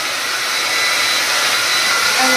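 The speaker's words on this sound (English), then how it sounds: "Then you turn on your blow dryer and you take it and you go up" A handheld blow dryer runs continuously at close range while styling hair with a round brush, a loud steady whoosh of fan and airflow that swells slightly toward the end.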